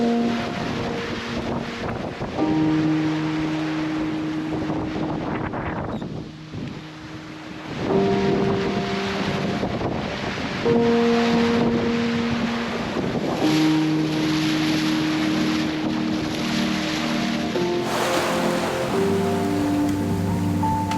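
Reefed-down sailboat running at about 5.5 knots in strong wind near the Canary Islands, with steady roaring wind noise across the microphone and recurring low horn-like rigging tones under the rush, no talk.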